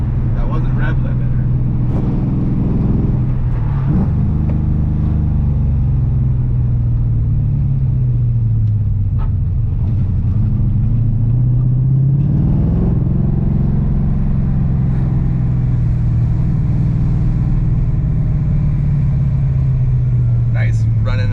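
An LS-swapped BMW E46 idles with a deep, steady rumble, rising and falling as it revs, close and loud, while people talk over it.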